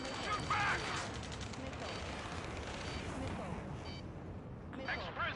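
Gunfire and heavy weapon blasts in the Ace Combat video game, dense and continuous throughout, with voices talking over the battle din.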